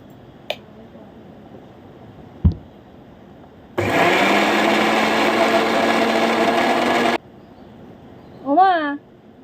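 Electric mixer grinder blending a spice paste in a home kitchen, whirring loudly and steadily for about three seconds before cutting off, with a few brief knocks and a short voice around it.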